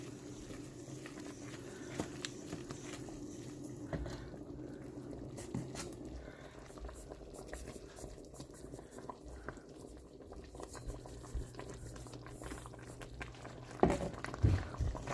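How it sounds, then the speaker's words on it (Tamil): Milk boils in a pot in a home kitchen, a faint continuous bubbling and pattering that stays steady throughout with no voices. "இப்படி பால் கொதிக்கணும்"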